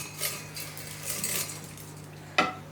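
Fried Kerala mixture snack tossed in a metal vessel, with dry rustling and scraping in soft bursts and one sharp metallic clink near the end, fairly faint and close, no voices.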